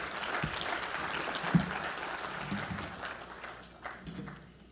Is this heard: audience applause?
yes